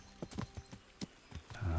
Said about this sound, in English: I'm just riding my horse right through the inn here.